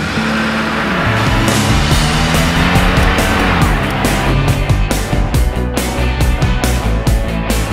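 A Mitsubishi Xpander drives by with a loud, close engine note that climbs as it revs, then gives way to a run of sharp rhythmic hits near the end.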